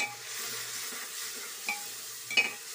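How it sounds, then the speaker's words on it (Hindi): Spices (coriander powder, turmeric, red chili) being stirred with tomato in a pan, a soft sizzle under a couple of sharper scrapes of the spoon near the end. "अब इसे मैं अच्छे से मिक्स कर लूँगी टमाटर पकने तक"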